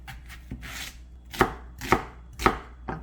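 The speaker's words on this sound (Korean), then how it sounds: "이렇게 얇게 이렇게 채를 썰으세요" A knife slices a medium onion into thin julienne strips on a cutting board, with soft shearing cuts and then four sharp, evenly spaced thuds against the board, close and clear with no talk.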